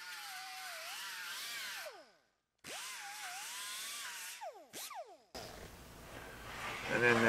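Angle grinder working a TIG-welded butt seam on a Scout 800 fender, a loud whining grind with pitch sweeps that stops, restarts, and cuts out again in short bursts, followed by harsher noisy scraping near the end.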